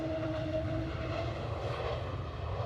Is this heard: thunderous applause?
no